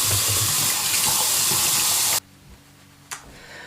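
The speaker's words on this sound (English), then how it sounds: "let me wash my hands." Water from a bathroom or kitchen tap runs steadily for about two seconds while hands are washed, then shuts off abruptly, followed by a brief faint clatter near the sink.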